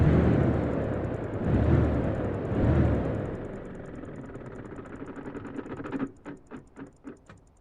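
A Volvo FH16 truck engine in Euro Truck Simulator 2 rumbles at a low idle with surging swells, then settles into a quieter hum broken by a quick run of sharp clicks near the end.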